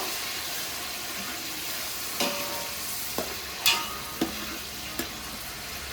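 A paste of tomato, green chilli and cumin fries in hot oil with a steady soft sizzle, broken by a few sharp scrapes and clinks of a spoon stirring in the pan.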